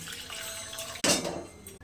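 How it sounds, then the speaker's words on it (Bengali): Water goes into a bowl of tomato and lentil mixture as a short, close splash and pour, following a background of soft kitchen clatter. "একটু জল দিয়ে দেবো"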